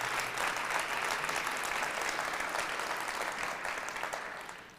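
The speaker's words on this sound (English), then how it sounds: "Give him a round of applause for being here today" Applause from a live audience for Wayne County Executive Warren Evans, steady dense clapping at moderate distance that gradually fades out.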